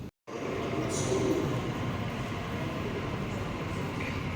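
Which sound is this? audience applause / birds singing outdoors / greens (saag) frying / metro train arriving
metro train arriving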